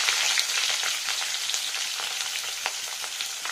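Ridge gourd and eggplant fry in hot white oil, giving a steady, dense sizzle with crackling pops throughout, fairly close and alone with no voices.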